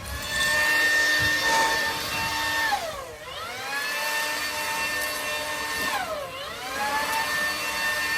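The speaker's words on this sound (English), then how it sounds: "I'm going to use a blower to clean it off" Leaf blower clearing off a porch, a loud steady whining roar close by that rises and falls in pitch twice as the blower swings or throttles, with no talking.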